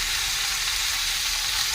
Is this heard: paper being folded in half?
no